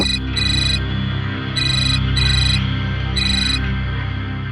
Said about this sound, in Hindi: अरे फोन आ गया।